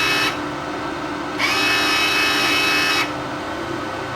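The wire feed motor of a Vevor MIG 270 welder runs on manual feed with aluminum wire, a close steady whine that starts and stops in two separate runs of about one to two seconds.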